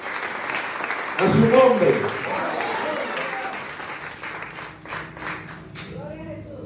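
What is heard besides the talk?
congregation applauding in church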